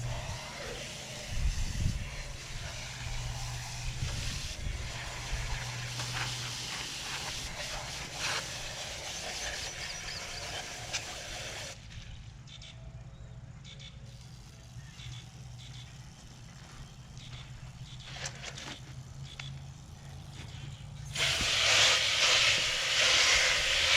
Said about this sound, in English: Let me get them rinsed off.